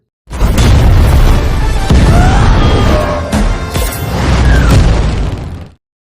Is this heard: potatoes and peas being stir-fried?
no